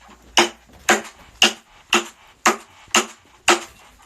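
A gavel bangs seven times in a steady, evenly spaced rhythm of sharp, loud wooden knocks, close to the microphone, with no talking.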